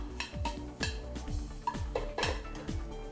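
Food is moved and tossed in a hot pan, giving a quick run of about eight metallic scrapes and clanks in a rhythmic pattern, close and clear without talk.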